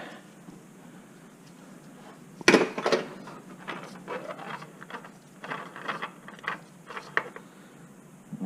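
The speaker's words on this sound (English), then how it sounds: "we'll use a little bit of a wrench to loosen that up" A wrench turns the oil filter loose on a Subaru Legacy during an oil change: a sudden metallic crack, then a run of scraping, clicking and creaking from the twisting, fairly quiet and close.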